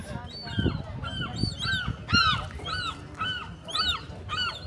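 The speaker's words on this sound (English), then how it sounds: "There's so many birds on this island." Birds on Alcatraz Island give repeated honking, gull-like calls in quick bursts, several overlapping nearby, with low rumbling background noise between calls.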